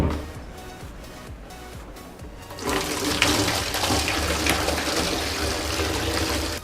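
Water drains noisily out of a container through a bottom plug hole, first a softer gurgling flow that becomes a louder, continuous rushing swirl.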